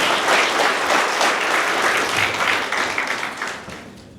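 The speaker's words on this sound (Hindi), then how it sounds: "एक बार ज़ोरदार तालियां हो सकती है अनूप सर के लिए." Loud audience applause at a business leadership training session, sustained dense clapping that gradually thins and fades toward the end, with no talk over it.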